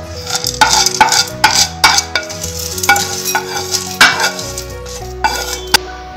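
Roasted chana dal is scraped and stirred from a pan into a bowl, with repeated metallic scrapes and clinks in an irregular rhythm over a soft, fading sizzle, close and fairly loud.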